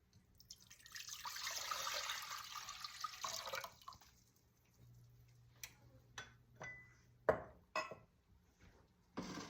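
Water is poured into a saucepan for homemade elderberry syrup. A soft, rushing pour lasts about three seconds, followed by a few quiet, scattered drips and light clinks.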